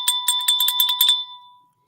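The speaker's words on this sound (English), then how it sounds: "We'll ring this bell." A hand bell rung in a quick run of about ten bright, close strikes, its metallic ring lingering and fading away once the shaking stops, with no voices.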